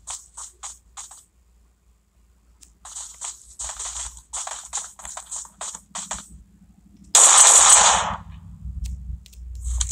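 PUBG gunfire from an in-game fight: several short sharp shots in quick clusters separated by pauses, followed by a loud, longer burst of noise near the end.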